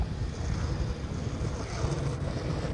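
Steady wind blowing outdoors, a continuous broadband rush with low rumbling gusts buffeting the microphone throughout, no voices.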